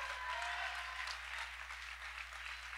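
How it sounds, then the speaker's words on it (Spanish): A church congregation applauding during a sermon, producing a steady wash of many hands clapping at moderate distance with a low hum beneath, no speech. "Vamos a dar un aplauso a ese Dios."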